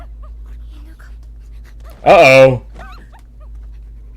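A dog whimpers in an anime, giving one short, loud, strained whine that rises and falls over a quiet background, with a brief spoken exclamation just before it.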